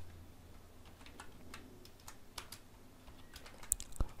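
Faint, close keyboard typing, a handful of scattered light key clicks over a quiet background, ending with a slightly sharper tap.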